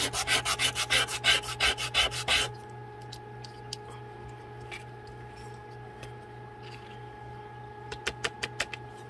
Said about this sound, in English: And the more sanding that you do, the more this will blend.